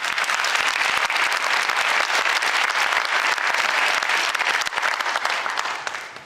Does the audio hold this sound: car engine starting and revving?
no